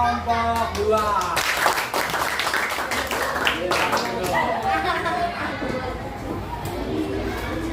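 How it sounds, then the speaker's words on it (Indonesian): Children in a classroom clapping for a group of classmates, a ragged burst of many small hands patting unevenly and close, mixed with chatter and voices talking over it. "Kami tepuk tangan untuk kelompok 2."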